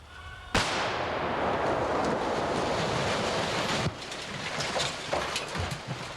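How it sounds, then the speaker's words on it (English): A sudden concussive blast from liquid nitro sticks destroys an outdoor moonshine still, then a long roaring, rumbling wash of debris and wind noise, ending with a second, smaller burst of crackling. "with liquid nitro sticks, they destroy the still setup with a concussive explosion"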